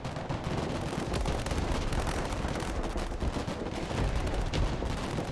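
Loud, unbroken gunfire fills a battle in the video game Broken Arrow, with dense overlapping shots and booming blasts rolling on without a pause.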